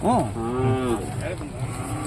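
A cow at the Magadi cattle fair lets out one loud, close moo with a rising start and a long drawn-out tone, followed by quieter background murmur.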